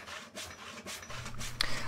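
Hand rasp shaping a natural oak slingshot, a few short scraping strokes in quick succession, close and fairly soft, with one sharper scrape near the end.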